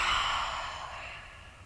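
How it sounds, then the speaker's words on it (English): A single long, soft exhale through the mouth during yoga breathing, close and breathy, fading gradually over under two seconds with no talk. "Long breath out."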